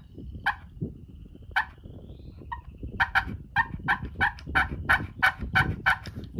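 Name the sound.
pull-string turkey call imitating turkey yelps and clucks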